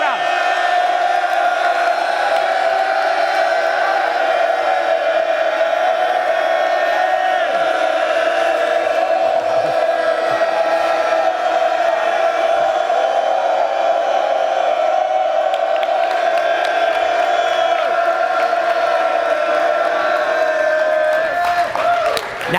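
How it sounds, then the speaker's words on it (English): A crowd yells continuously at full volume, a dense sustained roar of many voices that stays steady and close for a long stretch. "Walk the crowd as they do it, yelling at them."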